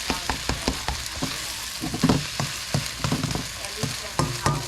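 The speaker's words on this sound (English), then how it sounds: "when you're cooking on super high heat, you just keep everything moving really fast" Eggs are stir-fried over very high heat for Samoan fried rice, with a constant crackling sizzle broken by quick, rhythmic scrapes and clacks of a utensil moving through the pan. No one speaks.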